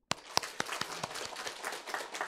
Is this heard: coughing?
no